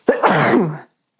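One sharp, loud sneeze, close by, with a quick intake followed by a burst that tails off within a second, then silence.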